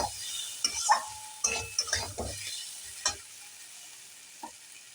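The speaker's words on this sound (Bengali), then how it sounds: "এবার খুব ভালোভাবে ফ্লেমটা বাড়িয়ে গ্যাসে কষতে থাকবো।" Stir-frying for a Bengali-style echor (young jackfruit) dish over a raised gas flame brings a soft sizzle under scattered clinks and scrapes of a spatula against the pan, close and fairly quiet, fading out toward the end.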